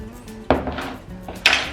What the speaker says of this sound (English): Put 4 tablespoons of icing sugar, and we're going to mix that and the butter together.